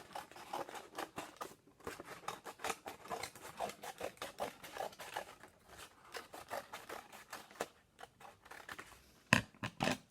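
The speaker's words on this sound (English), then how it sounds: "And we'll cut that hole in the middle out." Scissors snip repeatedly through a paper craft, cutting a hole out of its middle for a decoration. The quick, close cuts come in an uneven rhythm with crinkling paper between them and a sharper snip near the end.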